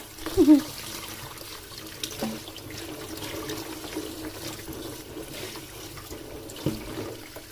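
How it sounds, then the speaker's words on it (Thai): Foraged peas being washed under running water, a steady trickle and splash of tap water with a few knocks against the sink early on, close by and continuous. "ล้างสักสามน้ำค่ะ"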